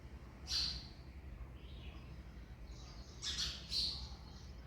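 House sparrows at a nest overhead chirp in brief, bright clusters, one burst early and a pair later, standing out over a steady low rumble.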